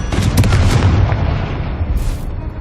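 A Confringo fire spell explodes in Hogwarts Legacy, a loud close boom with a crackling burst that rumbles and fades over a couple of seconds, followed by a sharp magical flare near the end.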